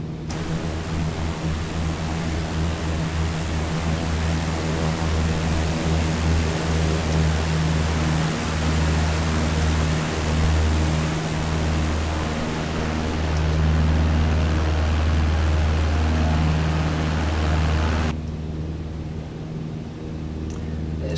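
Steady, loud drone of a Cessna 152's engine in flight as the throttle is eased back, a continuous cabin roar that shifts slightly in tone and drops near the end.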